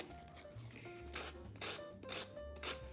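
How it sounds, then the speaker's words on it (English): A finger sander worked lightly in downward strokes to remove a decoupaged napkin from a thrift-store decor piece, a quiet rhythmic rasping scrape repeating in short pulses over a low motor hum. "I'm just gonna take my finger sander and just lightly in a downward motion, start removing that napkin."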